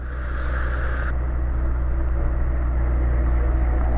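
A Magni M16 gyroplane's engine runs at a steady, loud drone during rotor pre-rotation on the ground, a continuous close mechanical hum with no talking.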